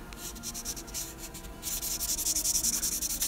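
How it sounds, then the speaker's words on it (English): Plastic Gunpla model part rubbed with the roughest pink grit of a Daiso 3-step sanding stick, quick rhythmic scratchy strokes close up that grow louder and faster in the second half. "you can use one of these 3-step sanders"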